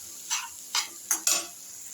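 Broad bean curry being stirred in a frying pan, four brisk scraping strokes with a light sizzle between them, close and alone without speech.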